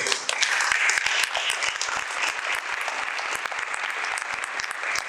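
A church congregation bursts into loud, sustained applause, dense clapping from many hands filling the room evenly for several seconds without speech.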